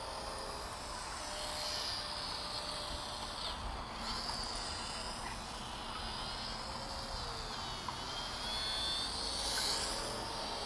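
A WLToys F949 RC trainer plane flies overhead with its motor buzzing at lowered throttle. The thin, steady whine is faint and distant over outdoor background noise.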